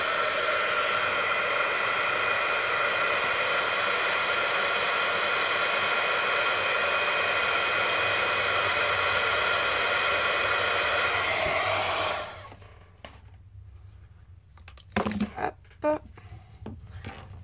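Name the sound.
embossing heat tool blowing on embossing powder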